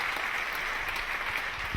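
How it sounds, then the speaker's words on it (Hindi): A church congregation applauds loudly and continuously, a thick, even wash of many hands clapping with no pauses. "जोरदार तालियां बजाइए खुदा के बर्रे के लिए"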